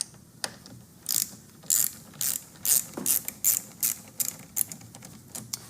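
A ratchet loosening the 10 mm negative battery terminal nut on a Nissan Maxima: a dozen or so close, crisp clicking bursts in a steady back-and-forth rhythm, with no talk.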